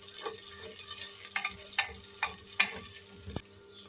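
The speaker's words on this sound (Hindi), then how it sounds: "आप इसमें चॉप अदरक और हरी मिर्चें शामिल कर दें और इनको मिक्स कर लें।" Chopped ginger and green chillies frying in a pan, a soft steady sizzle with a few sharp clicks and stirring taps, fairly close and alone.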